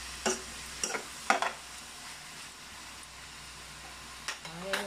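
Papaitang baka being stirred in a pan with a spoon, a few brief scraping clanks over a soft steady sizzle, with short gaps between strokes.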